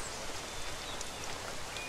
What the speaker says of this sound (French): La pluie battante